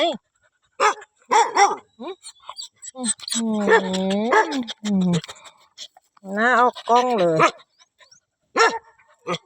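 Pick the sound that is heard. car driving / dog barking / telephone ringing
dog barking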